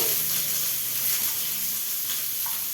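Green chilli and onion frying in hot oil over a low flame, after mustard seeds and cumin, giving a steady close sizzle and hiss throughout.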